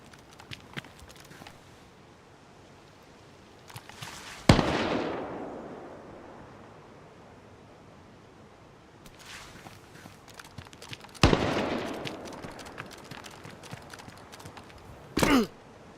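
In a snowy winter setting in DayZ, distant gunshots ring out across open terrain: a few isolated sharp cracks spaced seconds apart, each trailing off into a long fading echo, with quieter rustling and footsteps between.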